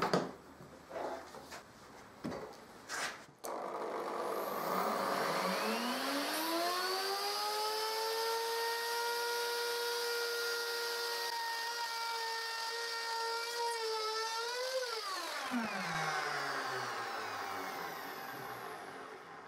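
A router in a simple jig spins up, cuts tongue and groove joints along wooden flooring planks with a steady high whine for about ten seconds, then winds down, close and alone.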